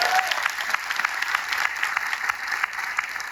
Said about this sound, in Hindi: एक बार नए साथियों के लिए जोरदार ताली बजा सकते हैं